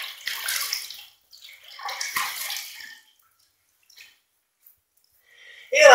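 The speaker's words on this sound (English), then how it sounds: "I'm going to wet my face" Water splashes onto a face before shaving in short bursts, handfuls scooped and splashed twice close up, followed by quiet drips and a louder final splash.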